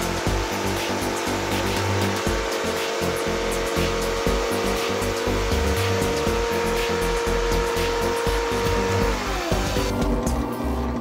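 A bench saw runs continuously with a steady motor whine, cutting through wooden gears with a rough, grinding texture; no talking.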